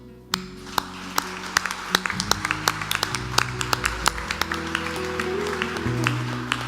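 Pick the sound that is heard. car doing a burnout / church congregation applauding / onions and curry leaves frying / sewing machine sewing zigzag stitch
church congregation applauding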